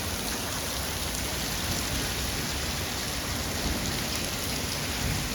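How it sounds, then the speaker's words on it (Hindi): Heavy rain pours steadily outdoors, a dense continuous hiss of drops striking surfaces, loud and unbroken throughout with no voices. "पीछे तो तेज बारिश आ रही है"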